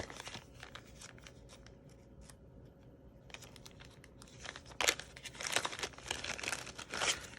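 Tear and tape adhesive being pulled and torn off a roll during a craft treat-bag project, giving crinkly, crackling bursts that build louder toward the end, close up and without talk.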